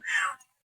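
A person imitates a cat's meow with a single short, breathy vocal meow that fades quickly.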